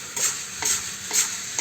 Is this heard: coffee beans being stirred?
yes